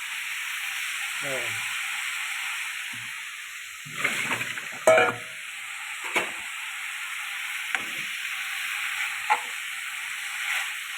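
Ridge gourd peels and tomato fry in a pan, a soft steady sizzle and hiss under several short clattering stirs spaced through the clip, with no talking.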